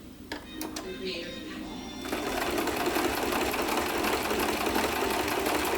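A sewing machine stitches a zigzag on fabric. After a few clicks it settles into a loud, steady, rapid mechanical whir close by.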